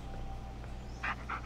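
Dog panting in the Blair Witch video game, short soft breathy bursts near the end of the moment over a steady low game ambience hum.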